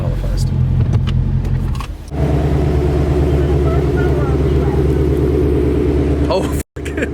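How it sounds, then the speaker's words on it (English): A passing car's engine rumbles steadily nearby, loud and continuous, with a brief sharp dropout near the end. "It's just a car."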